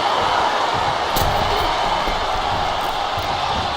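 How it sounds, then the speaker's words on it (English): A dense, steady crowd roar fills a WWE 2K25 video game arena during a Roman Reigns versus Nikita Lyons wrestling match, loud and unbroken throughout with a few brief swells. "Look at this crowd."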